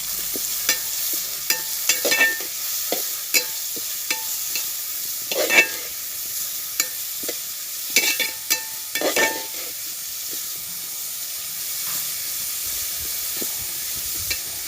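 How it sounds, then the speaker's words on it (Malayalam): Ingredients for an ash gourd chicken curry sauté in a pan with a steady, soft sizzle. Intermittent scrapes and clatters of a spoon stirring against the pan punctuate it. "ഇതൊന്ന് വഴറ്റിയെടുക്കാം."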